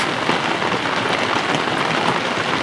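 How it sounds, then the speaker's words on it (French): Rain mingled with snowflakes falls steadily outdoors, a continuous, close hiss of drops on surfaces with no voices. "Ah ouais, il pleut"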